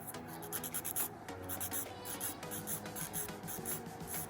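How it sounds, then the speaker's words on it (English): A buffer scrubs back and forth along the sides of a fingernail during a gel manicure, giving close, steady rhythmic rasping strokes with brief pauses between passes. "So I'm gonna buff on the sides a little bit here."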